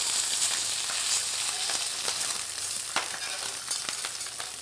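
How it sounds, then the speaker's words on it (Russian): Food frying briefly in a pan, a steady close sizzle with light crackles and a few stirring scrapes throughout. "Здесь буквально вот чуть-чуть прижарить, как бы этого достаточно будет."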